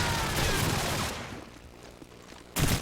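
Call of Duty 4 gunfire in a 4v4 ESL competitive match: a dense burst of rapid shots up front, then a quieter stretch of scattered distant fire, and a loud fresh volley near the end.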